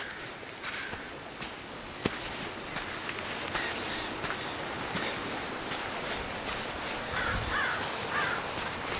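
A young raven calling outdoors, a few hoarse caws at mid distance over a continuous noisy background with scattered clicks and faint rustling.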